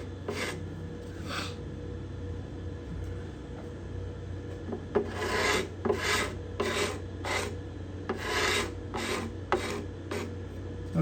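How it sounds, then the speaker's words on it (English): A hand scraper rasps across the cedar-top bindings and purflings of a guitar in a series of short, close strokes, some grouped in quick bursts, over a low steady room hum. "The scraping sound is different on this guitar than it is on the spruce one."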